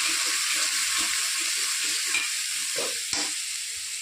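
Turmeric, chilli, cumin and coriander powders sauté in a hot pan with a continuous close hiss and sizzle. Soft scraping stir strokes run through it, with no voices.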